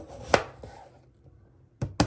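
Knife chopping potatoes on a cutting board for a lemon baked fish dish, with a few sharp, close chops spaced apart and a quiet pause between them.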